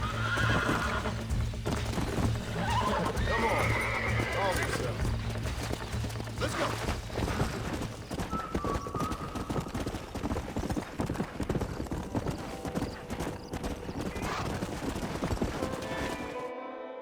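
Hooves clip-clop steadily while a stallion whinnies and snorts nearby, with busy background noise and occasional sharp bangs in the video game Red Dead Redemption.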